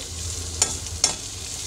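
Cooked rice is stirred into a lemon rice seasoning in a pan for Karnataka-style chitranna. A soft sizzle runs underneath, and two distinct spatula scrapes land about half a second apart.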